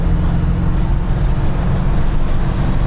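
A 1969 Mercedes 300 SEL sedan accelerates up to speed, giving a steady, loud low-end engine and road rumble mixed with heavy wind noise across the whole stretch.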